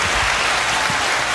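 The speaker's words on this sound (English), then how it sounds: "let's give a nice round of applause to Miss Monet Heath" Audience at a live talk show applauding, a dense burst of clapping that fills the short moment at moderate loudness with no talk over it.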